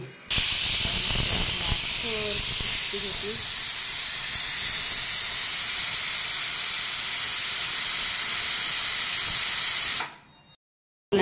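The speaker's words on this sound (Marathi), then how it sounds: "आता मस्त आता कुकर लावलाय" A pressure cooker on an evening stove releasing steam in a loud, steady, close hiss that runs for about ten seconds before cutting off abruptly, with a brief faint tonal sound early on.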